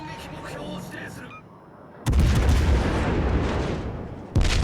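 Broadside salvos from American 8-inch naval guns on the Des Moines cruiser in the naval game World of Warships: Legends, loud heavy booms with rumbling decay, one near 2 seconds and another about two seconds later.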